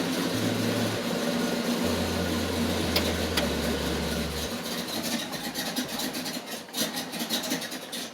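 A rough, noisy car engine idles and chugs as it is dropped into gear, steady low rumble that thins and turns uneven toward the end, fairly close with no speech.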